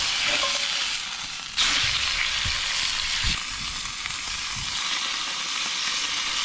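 Steak and eggs frying in a pan at a windy outdoor micro-camper stop, a steady close sizzle with bursts of crackle and a few low thumps from stirring, no talking.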